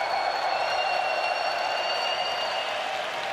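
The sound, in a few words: arena crowd applauding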